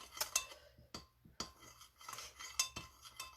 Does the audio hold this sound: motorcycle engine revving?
no